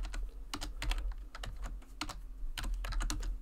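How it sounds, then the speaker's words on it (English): Quick, uneven clatter of keys on a computer keyboard, tapped in short bursts close to the microphone, with no voices over a low background hum. "I can't type today."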